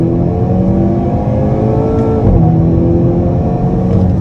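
Up close inside a 2022 Hyundai Kona N accelerating hard in second gear, the engine drones loudly and rises steadily in pitch, with a brief shift-like break midway.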